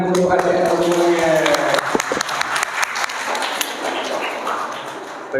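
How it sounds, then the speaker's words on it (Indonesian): Audience clapping for children at an orphan charity gathering, dense applause that thins into scattered claps while people talk and chatter underneath. "Tepuk tangan untuk adik semuanya."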